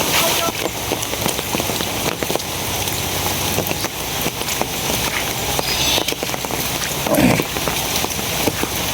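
Heavy rain falls steadily during a flood, a dense, constant patter on nearby surfaces with scattered louder drips and no break across the stretch.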